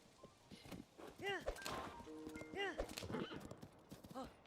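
Horse hooves clip-clop in Zelda: Tears of the Kingdom as the horse trots along, with several whinnies and neighs breaking through and a voice talking over much of the stretch.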